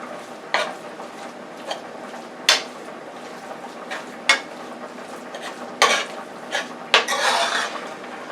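A spoon stirs spaghetti sauce in a pot on an unlit stove, making scattered metallic clinks and knocks against the pot's sides over a quiet background, close by, with no voices.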